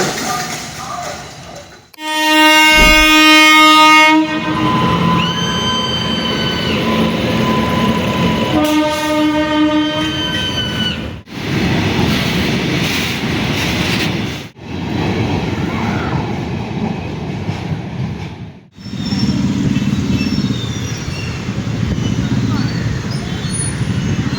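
A loud train horn blares, then a train thunders past up close at the Karaikovilpathu railway crossing with a heavy rolling roar and rhythmic clatter of wheels.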